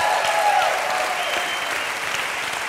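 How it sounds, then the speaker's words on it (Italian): A crowd at a charity auction applauds as a donated bicycle built from recycled parts is presented, dense sustained clapping from many people at an even level throughout. "Applauso."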